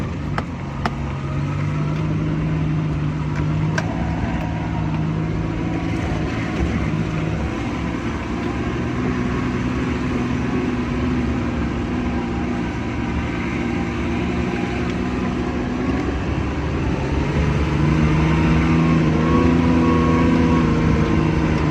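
Suzuki Bolan van engine pulling uphill after being restarted from running out of fuel, a steady droning hum with a constant low tone throughout, heard from inside the vehicle.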